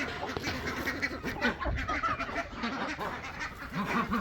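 Several ducks quack repeatedly at a moderate distance, overlapping calls scattered over a soft outdoor background.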